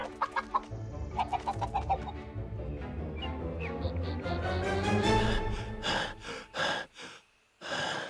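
Cartoon chicks cluck in an animated film, a quick run of sharp peeping clucks at first, then a busy, excited stretch of clucking and fluttering breaths that ends in a few loud bursts and gasps.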